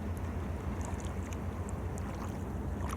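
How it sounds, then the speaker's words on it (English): A canoe being paddled down the Susquehanna River: a steady wash of water and wind noise with faint, soft paddle splashes scattered throughout, no talking. "paddling with us down here on the Susquehanna"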